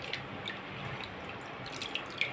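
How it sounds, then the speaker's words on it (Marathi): Water drains and trickles from soaked moth bean and mung lentils being lifted out of their soaking water, a quiet steady wash of flow with a few brighter drips near the end. "आता सर्व डाळी अशा काढून घेते पाण्यातून आणि पाणी चांगलं नितरून घ्यायचं"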